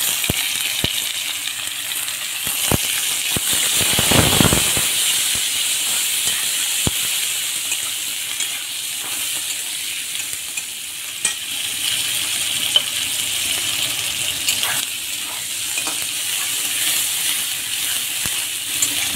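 Chopped tomato and onion fry with bay leaf and black cumin in hot oil in a village kitchen, giving a constant close sizzle and hiss with a louder burst early on and scattered small clicks.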